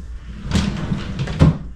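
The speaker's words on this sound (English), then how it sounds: "Here's their drawer." A bathroom drawer slides open and then shuts, two brief wooden scraping knocks close by, the second bump slightly firmer, with no speech.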